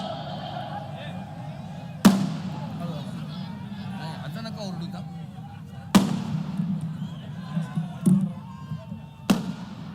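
Firecrackers burst at a large outdoor political rally in Nashik, four sharp loud bangs spaced a few seconds apart over a continuous crowd murmur and amplified speech.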